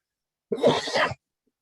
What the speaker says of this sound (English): I'm so sorry for my cough.